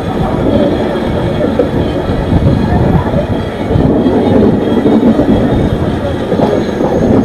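The Janashtabdi Express runs toward Ratnagiri station, heard from on board as a loud, continuous rumble of wheels and carriages with rhythmic rail clatter throughout.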